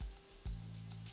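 A bay leaf and cinnamon stick dropped into hot oil in a pan give a brief soft sizzle, followed by a low steady hiss, close and fairly quiet.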